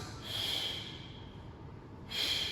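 Two forceful exhales during a glute bridge exercise, each a breathy hiss of breath released in rhythm with the lift, separated by a quieter pause.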